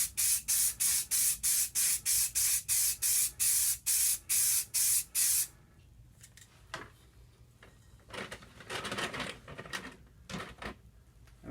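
Short rhythmic bursts of spray paint from an aerosol can, applied through a stencil onto Necromunda Warhammer gaming table terrain, about a dozen evenly spaced blasts close by, followed by quieter handling and rustling.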